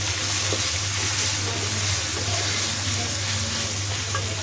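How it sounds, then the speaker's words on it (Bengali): Taro stems frying in hot oil, a dense, steady sizzle with a low hum underneath, close and constant throughout. "একটু ভেজে নিই কচুর ছড়ি।"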